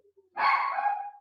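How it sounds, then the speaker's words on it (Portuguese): A dog lets out a single loud, close, high-pitched bark-yelp at home, sustained for most of a second, after a brief faint sound before it. "Nossa, tem uma gritaria de cachorro."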